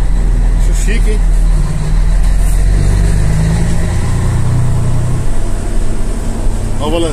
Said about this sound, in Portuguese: Quando você puxa o tiro pela embreagem, ele continua daí, dá uma cantadinha legal.